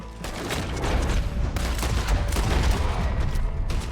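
Dense, loud volleys of gunfire from Red Dead Redemption 2 gameplay, overlapping shots rattling continuously for a few seconds with no pause.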